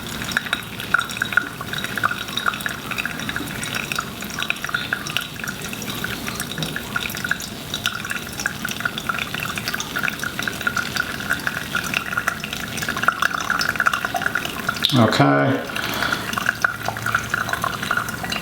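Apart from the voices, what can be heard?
water poured over coffee grounds for pour-over brewing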